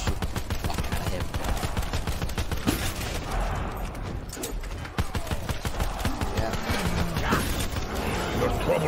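Rapid gunfire from a video game, shooting at a boss in Black Ops 4 Zombies, forms a dense, loud, continuous barrage of shots with mechanical clatter throughout.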